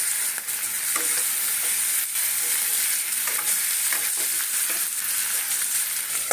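Vegetables with a little turmeric fry in a pan for a potato and snake gourd curry, a loud, unbroken close-up sizzle with faint stirring scrapes and no talking.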